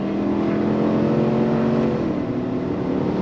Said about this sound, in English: We're gonna go on throttle.